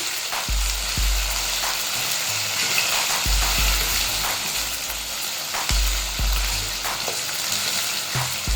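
Chicken meat for a white qorma frying hard over high heat, a steady loud sizzle with repeated scraping stirs and low clanks of the spoon against the pan every few seconds, no voices.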